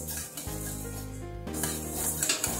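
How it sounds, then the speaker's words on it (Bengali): Moong dal lightly frying in a pan for a vegetable dal, a steady close sizzle with scraping stirring over most of it and a brief quieter pause partway through. "মুগ ডালটা আমার হালকা করে ভাজা হয়ে গেছে।"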